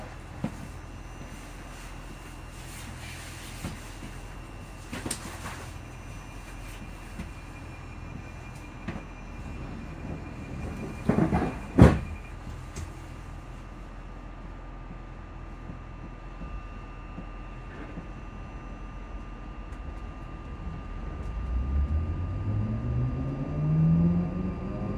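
A ScotRail train runs between stations, carrying a steady low rumble of wheels and motors with a brief louder clatter partway through and a rising roar toward the end.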